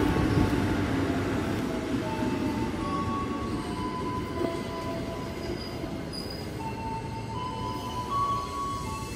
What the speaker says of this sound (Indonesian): Nah, ini dia KRL dari Cikarang menuju